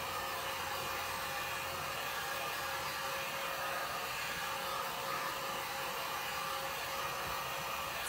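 A hair dryer blows steadily on a thrift-store wood applique piece, a continuous airy whoosh with a faint motor hum that holds at an even level from start to finish, with no voices.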